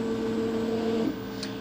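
A 3D printer homes all axes, its stepper motors giving a steady, close, tonal whine that cuts off sharply partway through, leaving a quieter hum with a faint high blip.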